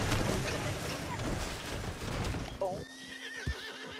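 A horse in the Red Dead video game gives a clear, loud whinny near the end, after a stretch of dense game noise and clopping hooves, with voices talking over it.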